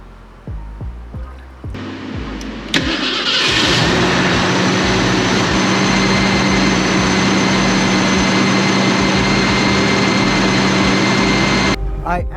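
A 289 small-block Ford V8 fitted with an aluminum radiator cranks briefly, then fires up and settles into a loud, steady rumbling idle close by, cutting off near the end.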